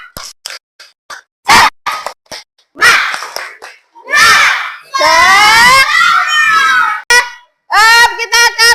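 Fifth-grade classroom pupils perform the tepuk semangat cheer, with loud rhythmic bursts of clapping mixed with shouted chanting from the group, close and energetic, the chant swelling into sustained voiced shouts near the end.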